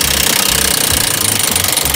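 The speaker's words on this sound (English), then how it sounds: "taking this 14 millimeter open end, pushing it across, and then he's hitting it. And that allowed it to drop." Sharp metallic hammer blows against a 14 mm open-end wrench on a car's rear shock bolt, hitting rapidly and loudly close up in a steady jackhammer-like rattle with no talking.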